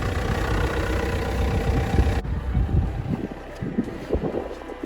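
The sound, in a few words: car engine idling just after starting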